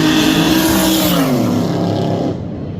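A pair of race cars at a roll racing event in Adelaide accelerate hard past the spot, a loud, close engine roar whose pitch drops as they go by, then fades into the distance.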